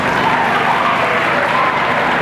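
Audience clapping in agreement during a live comedy show, a loud, dense burst of applause filling the whole short stretch without letting up.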